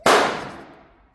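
A single sharp pistol shot cracks out loud and close, then its echo trails away over about a second with no voices.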